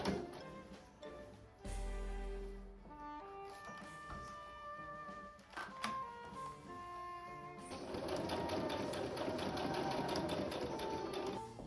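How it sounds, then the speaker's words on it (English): A sewing machine runs through several bursts of stitching as the side seams of a fabric sleeve for a Hylian armor costume are joined, the motor whirring steadily and close, with a louder, faster run near the end. "I just sewed the sides together of the sleeve"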